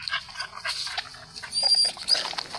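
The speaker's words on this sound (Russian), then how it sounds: "Собака тут с нами играется." A dog in a video game gives short, faint whimpering yips in quick bursts over a quiet background.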